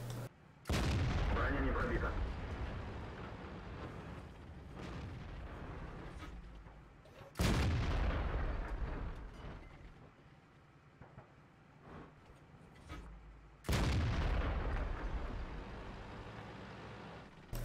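Heavy tank cannon fire from a T-62A and enemy tanks in a tank battle video game, three booming shots spaced about six seconds apart, each with a long rumbling decay, loud against a quieter battle background with no talk.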